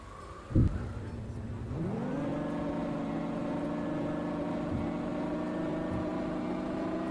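Car engine in the video game Taxi Simulator revs up after a thump, then settles into a steady, sustained drone with layered harmonics, with no talking.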